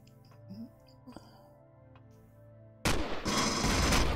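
Turret gunfire in Empyrion Galactic Survival erupts abruptly as a loud, continuous barrage after a quiet stretch of faint ambient hum and small blips.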